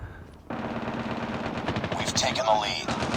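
Rapid automatic gunfire in a Call of Duty Mobile Gun Game team fight, a dense, loud, continuous burst of shots with a sharp onset, accompanied by in-game effects and a person talking over the action.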